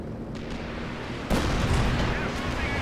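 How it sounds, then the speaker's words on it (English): Rocket strike explosions in Company of Heroes 2, a heavy burst crashing in about halfway through over a steady rumbling battlefield din, with the loud roar then sustained to the end. "it's a rocket strike there"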